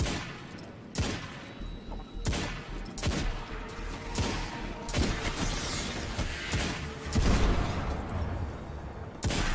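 Steady, dense gunfire from the video game Destiny 2 keeps going throughout, with loud sharp shots fired in quick bursts and rolling impacts over game ambience, and nobody speaks.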